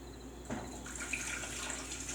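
Water is poured into a pot of cooked onions and flour as cream of broccoli soup is started, a soft steady trickle heard quietly and without talk.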